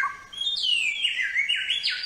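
A wild bird calls repeatedly to its mate in a close, clear series of descending whistled chirps, continuous and bright with no voices over it.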